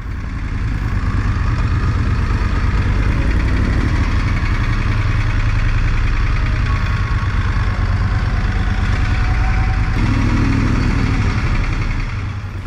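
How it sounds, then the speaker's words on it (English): Moto Guzzi Griso motorcycle engine running steadily during a ride, a loud, continuous low throb with wind noise that holds constant throughout, with a brief shift in tone near the end. "what you're seeing here is my last ride on my Moto Guzzi Griso"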